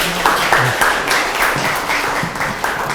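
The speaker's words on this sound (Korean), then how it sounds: "큰 박수 부탁드립니다" An audience at a Friday science lecture in Daegu applauds, a dense wash of clapping that holds steady for a few seconds, with faint voices beneath.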